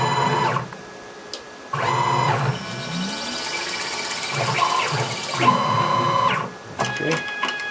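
CNC lathe spindle running a thread-cutting cycle at 500 rpm: a loud machine whine rises and stops in repeated passes, with short pauses and rising tones between them, close by, while a voice speaks partly over it.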